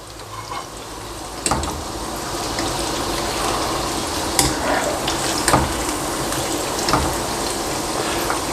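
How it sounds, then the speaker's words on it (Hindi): French fries deep-frying in hot oil, a dense, steady close sizzle that fills the clip, with a few sharp clinks and stirs breaking through and no talk. "फ्राइज़ अच्छे ब्राउन हो गए"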